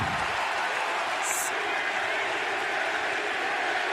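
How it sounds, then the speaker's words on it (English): A packed arena crowd at the AEW Forbidden Door wrestling event roars and chants for Kenny Omega, a loud, continuous wash of crowd noise with no break. "The crowd erupts with a chant of Kenny."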